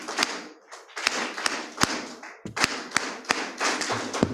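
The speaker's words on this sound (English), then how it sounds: "clap for our presenter." Audience at a climate justice summer school workshop in Nairobi claps for a presenter in a few sharp, uneven bursts, individual hand claps standing out close by with short pauses between rounds.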